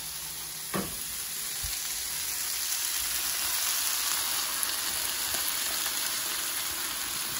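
Butternut squash sautéing in a pan, giving a steady loud sizzle with a few clinks and stirring scrapes, no voices.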